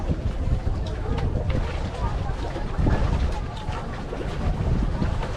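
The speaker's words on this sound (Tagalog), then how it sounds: "Sobrang hangin dito." Strong wind buffets the microphone by the sea at Bantayan, Cordova, Cebu, a loud continuous roar with surging gusts and no clear pauses.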